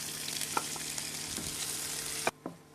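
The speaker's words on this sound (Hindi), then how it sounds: "अब हम तेल में जीरा डाल देंगे" Cumin seeds hit hot oil for a karela sabzi and sizzle with a steady bright hiss, broken by a few stirring clicks, close and fairly quiet, the hiss dropping away near the end.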